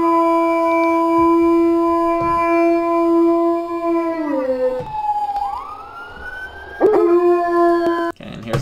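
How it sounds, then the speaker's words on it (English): A dog howling in long, sustained, wavering tones that slide and bend in pitch, close and loud, with a short break and a rougher yelp near the end. "Here is one noble dog."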